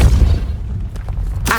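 A Depulso force spell lands in Hogwarts Legacy, giving a deep booming impact with a low rumble that trails off, then a sharp burst near the end, loud and close with no talk.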